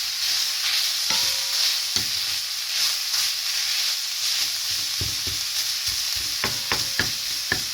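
Minced meat sizzles steadily in a pan as it is mashed and broken apart for Egyptian meat galash, with repeated scraping and stirring strokes and a few sharp taps near the end.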